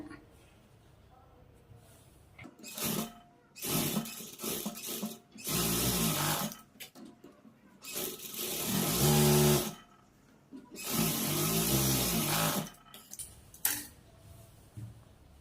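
A sewing machine stitching a blouse runs in several bursts of loud whirring, each a few seconds long and separated by short quiet pauses, close to the microphone.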